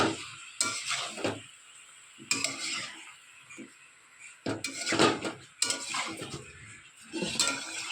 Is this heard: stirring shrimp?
yes